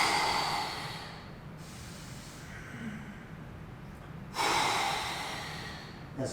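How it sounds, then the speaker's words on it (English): Someone holding a handstand breathes in and out loudly and close by. A long airy breath is followed by a quieter pause, then another strong breath and a short final one. "Go into the handstand, I breathe."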